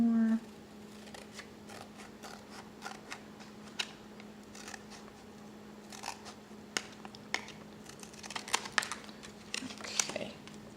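Paper being cut and handled for a small travel junk journal, with scattered close snips, rustles and taps over a quiet room hum.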